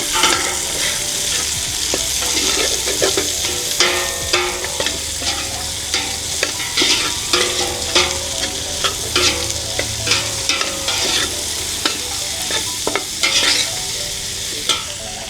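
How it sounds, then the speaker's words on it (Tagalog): Pancit bihon with carrots sautéing in a pan, a constant sizzle under repeated scraping and clacking strokes of a utensil stirring the noodles. "Para magisa-gisa siya ng light. Halo-halo natin siya."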